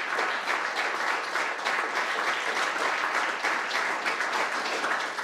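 Thunderous applause rises from a standing audience, dense and sustained clapping at steady loudness throughout, with no pauses.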